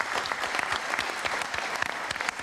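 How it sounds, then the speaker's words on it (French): An audience applauds Régine at a French event on hazelnuts, with dense, steady clapping from a crowd throughout and no voices on top. "Régine qui est là, que l'on applaudit."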